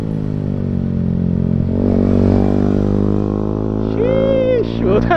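A Yamaha R15M sports motorcycle being ridden, its engine a steady loud drone with a rising rev, wind rushing over the mic, and a rider talking over it.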